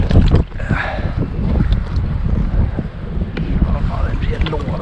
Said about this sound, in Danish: Det blæser jo lidt.